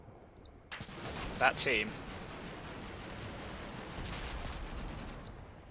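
Burst of .50 cal machine gun fire in the Combat Mission: Black Sea war game, a short sharp volley with crackling shots over steady battle noise, with someone talking briefly.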